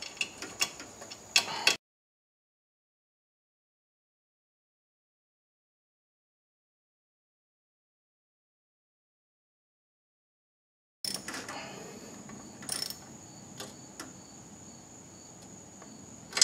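A ratchet wrench tightens bolts on the rear drum brakes of a 2000 Ford Focus: brief bursts of close, crisp clicking at the start and again near the end, separated by a long stretch of silence.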